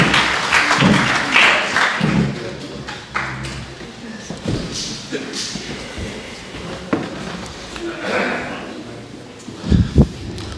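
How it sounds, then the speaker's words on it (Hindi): An audience at a mushaira poetry gathering and book launch claps in uneven bursts, the applause rising and falling with voices mixed in and a few louder thumps near the end. "आपकी भरपूर तालियों में आज की महफिल के सदर जनाब आबिद अली बेग साहब"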